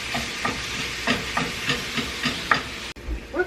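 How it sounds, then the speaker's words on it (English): Ground beef frying in a pan already used for sautéing vegetables, a steady sizzle broken by regular stirring scrapes about every half second, close and clear. "I'm gonna use the same pan and I'm gonna cook up the ground beef."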